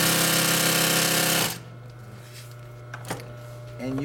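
A Consew 206RB-5 walking foot sewing machine stitches in a fast, loud, close mechanical rattle for about a second and a half, then stops, leaving quiet room sound.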